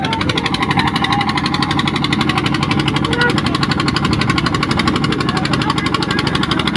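A boat engine runs loud and close on the Jamuna river while pulling up a boat sunk in a storm, a continuous rapid throbbing chug with no pauses.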